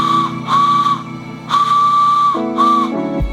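A handmade DIY wooden whistle is blown in several loud, steady shrill blasts of roughly half a second to a second each, separated by short breathy gaps, close and clear with no talking.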